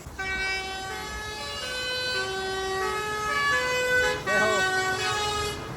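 A vehicle horn sounds in long, sustained blasts, loud and close, briefly broken near the end before resuming, with faint background noise.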